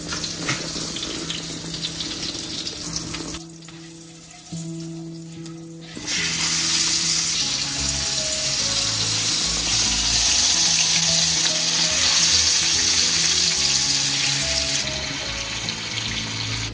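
A tempering of nigella seeds and green chillies crackles and sizzles loudly in hot oil, a strong continuous frying hiss that drops briefly before surging back even louder.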